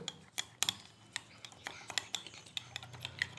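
A spoon clinks and scrapes in a bowl while stirring an egg and flour biscuit mixture, with quick, irregular taps and chinks close by and fairly quiet.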